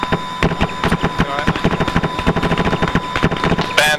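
Rapid bursts of gunfire crackle through a combined-arms military game battle, dense repeated shots in quick irregular volleys, with a voice speaking over the shooting.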